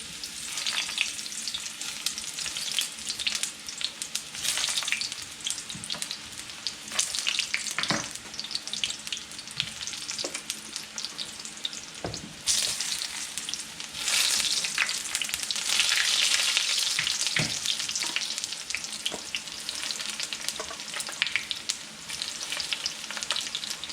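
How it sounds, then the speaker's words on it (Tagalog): Eggplant pieces fry in hot cooking oil, a steady close crackling sizzle with irregular pops that continues unbroken and fairly loud throughout, with no talking. "So, mainit na yung ating mantika. Ilalagay na natin yung ating mga talong."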